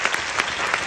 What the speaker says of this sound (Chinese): 先给我们自己本身一个掌声。